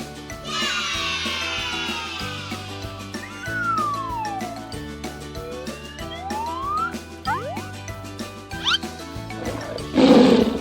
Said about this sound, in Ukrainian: Це тигр.